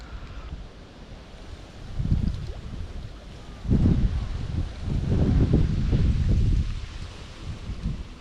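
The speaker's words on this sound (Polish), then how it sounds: "Wiatr niestety jest dość porywisty, co jest jednocześnie plusem i minusem." Gusty wind blows outdoors at a fishing spot during light spinning, buffeting the microphone in strong low rumbling surges that rise and fall several times, with quieter lulls between gusts and no talk.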